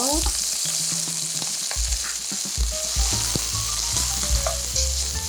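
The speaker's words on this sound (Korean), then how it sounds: "버섯을 먼저 넣어주게 되면 물기가 살짝 마르면서 고들고들하게 볶아줍니다." Mushrooms and onion stir-frying in oil in a hot wok over medium heat, with a steady bright sizzle and repeated clacks and scrapes of a utensil tossing the food, close and without talk.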